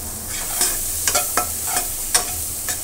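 Chopped tomatoes sizzling in a hot pan while a spatula stirs them, a steady fry hiss broken by a series of sharp scraping strokes, close and clear with no talk.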